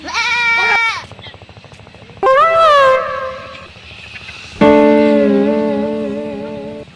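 A goat bleats loudly and close by in three long, wavering calls separated by short pauses, with faint rustling and background noise between them.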